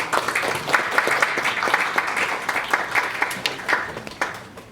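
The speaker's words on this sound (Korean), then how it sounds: "기보배 선수에게 박수 한번 부탁드리겠습니다" Applause for retiring archer Ki Bo-bae fills a press conference room, a steady dense clapping from the gathered audience that holds evenly for several seconds before thinning slightly toward the end.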